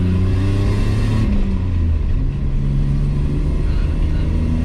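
A BMW E34 535i engine with a spark stutter runs with a loud, steady low rumble, heard close up from inside the car and shifting slightly in pitch partway through.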